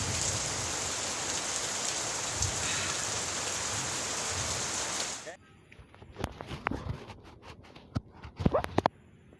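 Steady rain falls in a village setting, a dense continuous hiss for several seconds that cuts off abruptly, followed by quieter scattered knocks and handling sounds.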